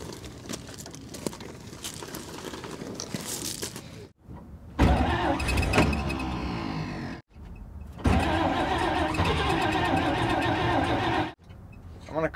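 A 1948 Chevy truck engine cranking with a whining starter, then catching and running loudly up close, with short breaks between attempts and people talking around it.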